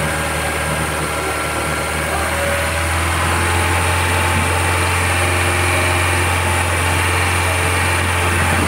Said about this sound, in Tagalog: obserbahan lang namin yung painitin lang namin yung makina